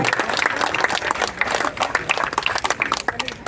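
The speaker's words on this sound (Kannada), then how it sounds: "ಚಪ್ಪಾಳೆ ಎಲ್ಲರಿಂದ ಬರಬೇಕು" An audience at a Yakshagana felicitation event claps in a loud, dense burst of applause that holds steady throughout, crisp individual claps crackling within the continuous roar.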